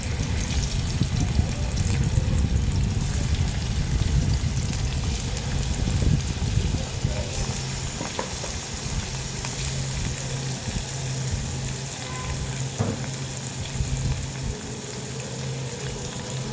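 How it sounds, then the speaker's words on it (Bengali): Rui fish rubbed with turmeric and chili sizzles in hot oil in a pan, a loud, steady, close frying hiss with a low rumble that carries on throughout. "হলুদ মাছগুলা দিয়ে দেয় তৈলের মধ্যে, এই দিয়ে দিতে আছি"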